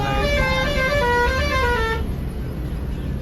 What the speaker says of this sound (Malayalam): നമ്മളെ ഹോൺ എങ്ങനെയുണ്ട് ഗൈസ് സെറ്റല്ലേ